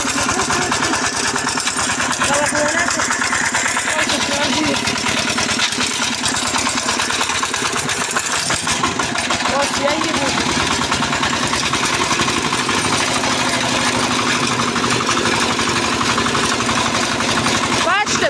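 Small walk-behind tractor (motoblock) engine running steadily while driving, a continuous loud buzzing drone with a rattling, sewing-machine-like texture throughout.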